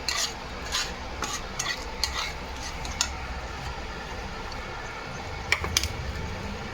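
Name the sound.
stirring spiced mixture with garam masala in pan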